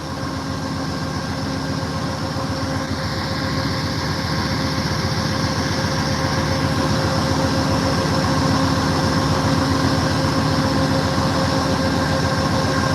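Amtrak California Zephyr locomotives, units 171 and 151, idle at the Ottumwa, Iowa station with a constant deep diesel rumble and steady tonal hum, loud and close.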